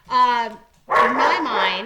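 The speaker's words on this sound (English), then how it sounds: "that's my dog. Sherman is barking." Sherman, a pet dog, barks in a short burst of harmonic yips, then barks again overlapping with someone speaking nearby, bark and voice close and fairly loud.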